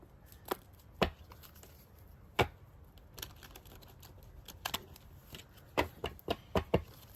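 Soft, irregular riffling and snapping of tarot cards being shuffled in scattered bursts, close and fairly quiet, with no voices.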